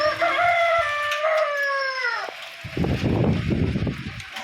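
Chickens in a coop during a cyclone storm: a long, drawn-out crowing call rings out close by, then gives way to low clucking and rustling.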